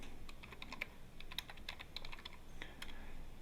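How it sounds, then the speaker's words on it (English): Username and password typed on a computer keyboard at a login screen, with quick, close, light key clicks in an irregular rhythm and brief pauses, no voices. "So let me type that in, hopefully correctly"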